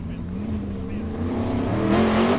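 An old-school truck in an Icelandic Formula Offroad race at Egilsstadir revs and climbs in pitch, its engine note rising and growing louder over a couple of seconds, heard from a distance with crowd noise.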